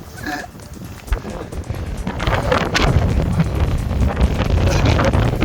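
Strong wind buffets the microphone at a mountain summit on an overcast Scottish hill day, a low roaring rumble that builds and gusts continuously, loud and close, with no talking.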